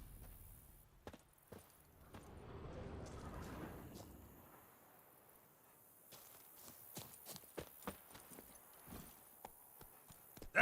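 Roach, a horse in The Witcher 3, trots with a steady run of hooves clip-clopping at a moderate distance, sharp hoof strikes scattered over faint background ambience.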